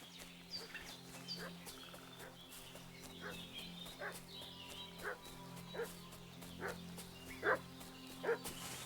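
Dog barking in Kingdom Come: Deliverance 2, a medieval village scene, with repeated short barks scattered through quiet ambient game sound, moderately distant, growing slightly louder near the end.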